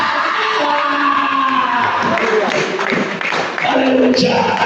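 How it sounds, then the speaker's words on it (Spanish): A church congregation claps and cheers loudly, a dense, continuous wash of applause with whoops and shouts throughout. "Da fuerte aplauso"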